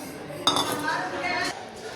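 Metal pots and a pressure cooker clink and clatter in a kitchen as dal is put on to boil, with a sharp close clank followed by a run of rattling contact, no talking.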